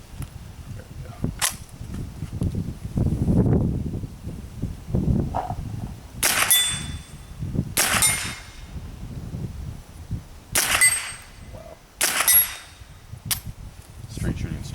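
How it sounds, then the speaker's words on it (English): Ruger 10/22 rifle fires at steel plates downrange, about four sharp shots each followed by a bright ringing clang from the struck steel, spaced a second or two apart, with low murmured talk and outdoor noise between. "we'll shoot at some of the plates out there at 3 times power magnification"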